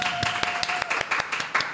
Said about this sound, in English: Round of applause to everybody out there.